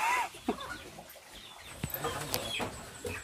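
Chickens cluck and call in short bursts outdoors, a few sharper squawks standing out over quiet background noise.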